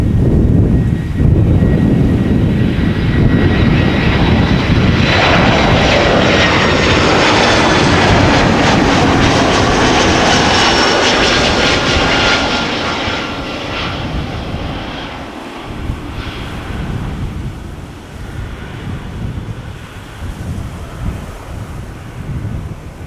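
A KLM Boeing 747 lands on a runway at Amsterdam Schiphol with a loud, close roar of jet engines, buffeted by wind noise, that slowly fades as the aircraft rolls away.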